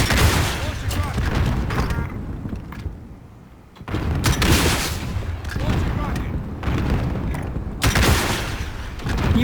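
Rocket launch and gunfire in Call of Duty Warzone near a bunker: dense, loud bursts of shots and booming blasts, briefly easing before the barrage resumes, with voices talking over the action.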